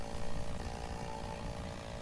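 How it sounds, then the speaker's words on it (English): A chainsaw in the logging game Lumberjack's Dynasty runs at a steady, continuous drone with no pauses, fairly loud and alone with no voices. "let me get my chainsaw"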